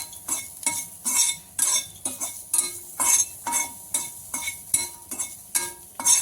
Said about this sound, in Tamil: அதனால் கொஞ்சம் அது கலர் வர்ற வரைக்கும் வறுக்கணும்